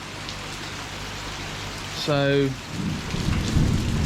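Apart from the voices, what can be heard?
rain falling by a koi pond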